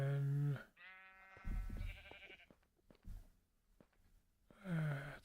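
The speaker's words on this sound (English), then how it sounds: "let's release the sheeps." Sheep bleat in the Minecraft video game, several wavering bleats at the start and end with quieter game sounds in between, fairly close and clear.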